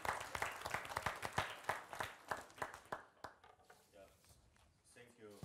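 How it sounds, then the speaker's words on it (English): An audience at a conference applauds a European Union Commissioner, a burst of many hands clapping that thins out after about three seconds, with some voices at the end. "I think we should give the Commissioner an applause to start with."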